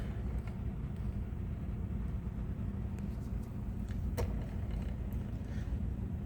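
A 3D printed turboshaft with a gearbox spins a propeller, producing a steady low whirring rumble with faint mechanical ticks, continuous and moderately quiet.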